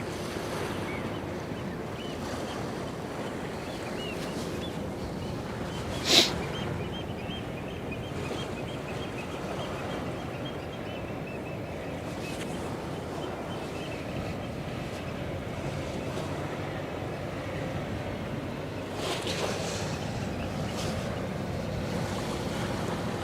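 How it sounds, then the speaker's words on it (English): Waves and water wash steadily against the Westerschelde shore, a continuous broadband rush with light wind, one sharp knock around six seconds and a brief surge near nineteen seconds. "with the waves and the water sound, it's very relaxing"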